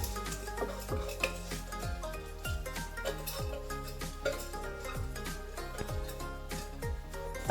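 Chicken pulao rice with yogurt is stirred in a pot, a rhythmic series of quiet scraping and clinking utensil strokes against the metal, soft and close with no talk.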